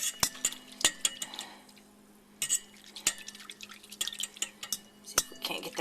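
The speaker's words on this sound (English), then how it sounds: "Let me mix that up just a hair more." Spoon clinking and tapping against a bowl while liquid is stirred for homemade pizza dough, a series of sharp, close clinks with quiet gaps of swishing between them.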